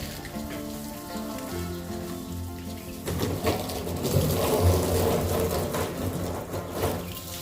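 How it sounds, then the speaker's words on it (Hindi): Water sprays steadily onto plants as a garden is watered in the morning, a continuous hissing patter that grows louder and denser partway through, with faint birdsong in the background. "सुबह सुबह यहाँ पापा अपने गार्डन को पानी देते हुए।"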